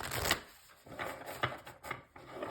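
Tarot deck being shuffled by hand, soft close riffling and slapping of cards in several quick bursts with short pauses, fairly quiet and without talk.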